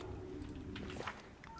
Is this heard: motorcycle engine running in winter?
no